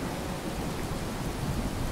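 Steady, heavy rain with a low rumble of thunder in a video game, a dense even wash of noise with no voices over it.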